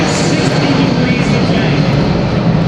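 A huge C-17 Globemaster III military transport jet banks sharply past in a tight turn at a 2009 air show, its loud, continuous roar filling the scene while a voice talks over it.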